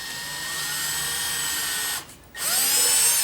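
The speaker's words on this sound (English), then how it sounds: "You definitely want to be drilling holes to for your screws, because especially once timber starts to get thin, the chance of it just cracking is really high." A power drill boring screw holes in thin softwood timber for a pedal board box, loud and close with a steady whine, a brief stop just after two seconds, then running again.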